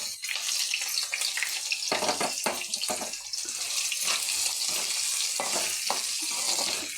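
Chopped onions, about a cup, hit hot oil over reddened tempering spices and fry with a steady close sizzle, punctuated by repeated stirring scrapes through the pan.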